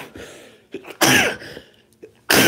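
Several sharp bursts close up: small throat noises, then a loud explosive cough-sneeze, a pause, and another forceful burst at the end.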